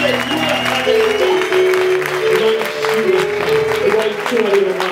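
A church congregation applauding, heard as loud, sustained clapping from a crowd mixed with singing or amplified voices throughout.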